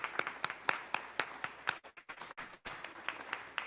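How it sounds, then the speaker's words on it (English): A church congregation applauds picnic attendees with a run of sharp, fairly close handclaps in an uneven rhythm. The clapping briefly thins out partway through, then picks back up. "would you please stand up and give yourself a hand, please? Let us applaud you."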